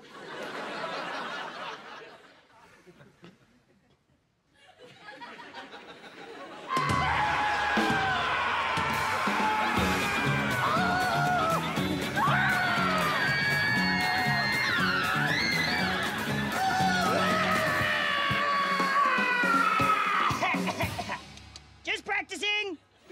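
A long, loud scream with shifting pitch holds for most of the stretch, after quieter voices and a brief lull at the start, ending in a few short bursts.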